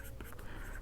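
Writing on a board during a chemistry lesson on types of reactions, faint soft scratching strokes heard close and quiet, with a few short marks and no clear talk.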